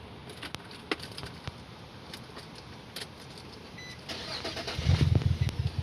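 A few clicks and rattles, then the engine of a 2003–2007 Infiniti G35 with P0300/P0306 misfire codes cranks and catches near the end, rumbling loudly.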